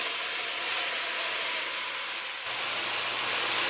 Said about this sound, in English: And now I'm going to add in my soya that we seasoned.